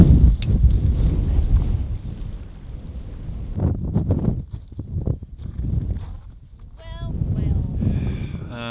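Strong freezing wind on an Iceland beach buffets the microphone with a loud, continuous low roar that swells and dips, with faint footsteps and movement underneath.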